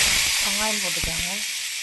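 Onions frying in hot oil in a kadai, after mustard seeds and cumin, give a loud constant hiss and sizzle while a voice talks over the cooking.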